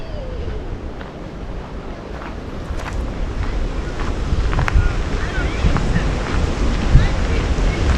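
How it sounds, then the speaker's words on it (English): Rough ocean waves crash and roar steadily on the coast of Maui, Hawaii, in Haleakalā National Park, with heavy wind buffeting the microphone the whole way through. "Look, there's the waves crashing."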